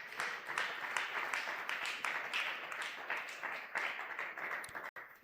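A church congregation at a Sunday worship service claps steadily and together for several seconds, a dense, even patter of hands with no voices over it.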